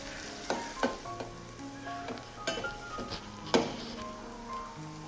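Onion and green chillies sizzle and fry in oil while a spoon stirs them, with steady crackling and several sharp scraping clinks against the pan, close up and with no talk.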